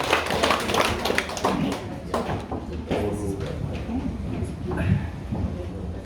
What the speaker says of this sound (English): Let's give a big round of applause to Surendra Prasadji for his tremendous effort